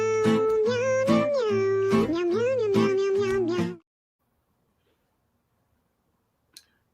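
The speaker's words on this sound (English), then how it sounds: "But here is the kitty cat." A house cat gives a long, drawn-out meow of several connected wavering cries that stops abruptly, followed by near silence and one faint tick.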